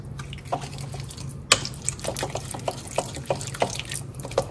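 Watery drips and small splashes fall as marinated chicken is squeezed by hand, a series of soft irregular drops over a low steady background hum, close up with no talking.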